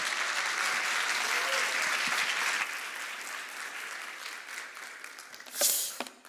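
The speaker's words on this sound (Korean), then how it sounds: "우리 뜨거운 박수와 환호성으로 환영하도록 하겠습니다" A church congregation at a Sunday worship service in Seattle applauds and cheers to welcome a guest preacher, a dense burst of clapping that gradually thins and fades, then a brief louder swell of cheering near the end.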